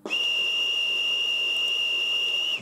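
A single steady, high-pitched whistle from an LGB 2095 model locomotive's ESU sound decoder holds one tone for a couple of seconds over a soft hiss, then cuts off abruptly.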